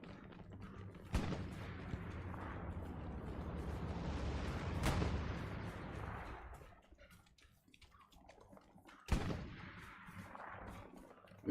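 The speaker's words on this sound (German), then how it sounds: "Gut, wir haben schon mal die ersten Schüsse." Distant gunfire at the front line in a World War trench combat video game, with a few sharp shots cracking over a steady rumbling battlefield wash in wet, murky conditions.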